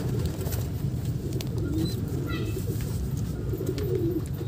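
A continuous low cooing comes from several pigeons in a rooftop breeding loft with young chicks, close and steady, with a few brief higher chirps midway.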